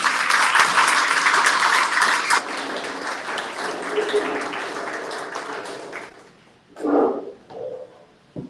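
A live audience at a bookstore event claps loudly to welcome guests, the applause swelling and then tapering off after several seconds, followed by a brief voice and a microphone thump.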